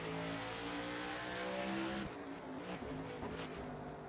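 Race cars roar together at the start of a dirt-track race at Eldora in a racing video game, with loud, sustained engine drone and shifting pitch as the field gets underway.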